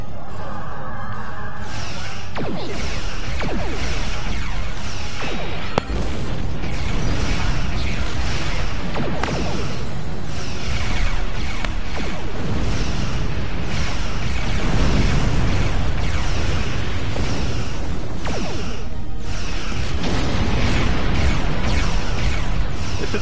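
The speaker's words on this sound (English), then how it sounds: "All I need is to get close and I can fire these high yield torpedoes." High-yield torpedoes explode in the space combat game Star Trek Online, a dense wash of loud booming blasts and rumbling bursts layered over continuous sci-fi battle noise.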